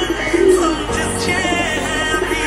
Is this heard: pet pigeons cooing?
yes